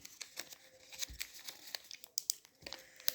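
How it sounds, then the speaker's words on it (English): Paper packing is pulled out of a FireBoltt Invincible smartwatch box. It gives quiet, close, irregular crinkles and rustles in quick bursts, with no talking. "I'll have to remove this paper out."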